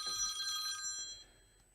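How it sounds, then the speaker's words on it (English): A telephone bell rings in a hall during a primary school assembly, a bright trilling ring lasting under a second before fading into quiet room tone. "that's never a good time to get a phone call"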